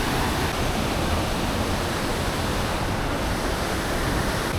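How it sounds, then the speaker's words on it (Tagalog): Strong river current churning near a waterfall, a loud continuous broadband rush of water that never lets up, alone without voices. "Lakas ng alon dito."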